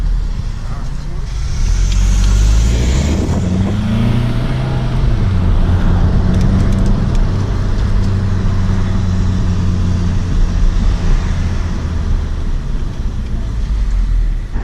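A Volkswagen GTI engine with a stock exhaust rises in pitch as it revs, then settles into a steady low drone, with wind noise and a voice talking over it.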